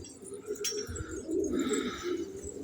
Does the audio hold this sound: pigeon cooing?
yes